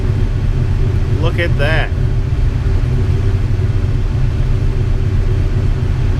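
Electric radiator cooling fans on a Ford Mustang with a 180-degree thermostat run hard, giving a loud, steady whooshing roar throughout, with someone briefly speaking over it early on.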